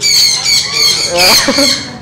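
Birds at a pet shop squawk and squeal loudly and close by, giving several shrill, overlapping calls.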